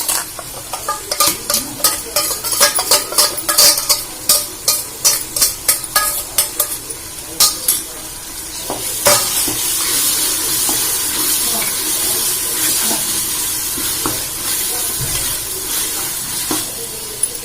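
Ginger paste for Nellai-style mutton dum biryani sautés in a pan, with rhythmic scraping stirs through the first half, then a steady, loud sizzle that carries on alone.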